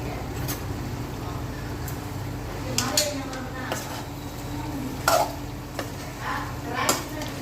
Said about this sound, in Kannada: ಈ ನೀರಲ್ಲೇ ಚಿಕನ್ ಫ್ರೈ ಆಗಬೇಕು